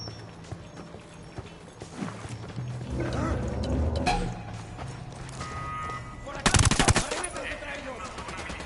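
Gunfire in Ghost Recon Wildlands, scattered shots and short bursts at mixed distances over game noise, with a loud close burst of rapid fire toward the end and voices talking at times.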